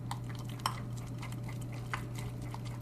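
A spoon stirring melted butter and chocolate in a bowl for a keto chocolate cake, soft scraping with a few light clinks against the bowl over a steady low hum.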